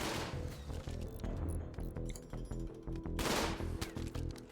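Video game gunfire from the game Caravan In The Sky, with rapid bursts of shots and crackling impacts coming in clusters, loud and close, with a brief lull in the middle before another heavy volley.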